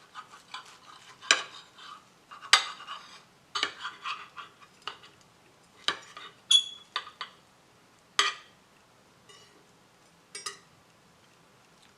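A knife cuts through a freshly fried, crispy kimchi pancake with a series of sharp crunchy scrapes and taps on a plate or pan, close and clear, spaced irregularly with brief quiet gaps and no talk.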